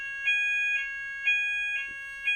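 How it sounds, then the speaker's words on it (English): A fire alarm sounds in regular electronic tone bursts, five evenly spaced beeps about half a second apart, loud and alone without any voices. "What is that? Fire alarm."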